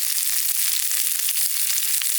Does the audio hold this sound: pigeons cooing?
no